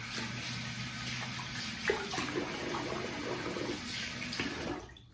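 Water runs steadily from a tap while someone wets their face before a double-edge safety razor shave, a continuous nearby splash and rush that fades out at the very end.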